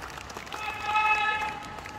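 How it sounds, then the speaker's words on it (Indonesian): A rally crowd claps and cheers for Ganjar Pranowo, a dense wash of applause with raised voices swelling briefly in the middle. "Tepuk tangan untuk Ganjar Pranowo."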